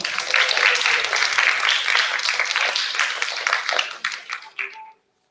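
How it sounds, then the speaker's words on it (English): A graduation audience at El Instituto de Mandevilla claps in a brisk burst that thins out and stops abruptly after about five seconds, the hands fairly close and lively. "Clap yourselves."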